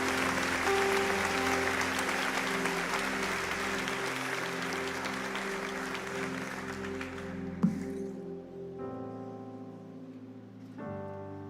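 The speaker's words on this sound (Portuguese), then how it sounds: "Bata uma salva de palmas para Jesus aí." A church congregation claps for Jesus in a sustained round of applause over soft sustained music, fading toward the end as the music carries on alone.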